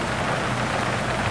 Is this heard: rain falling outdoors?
yes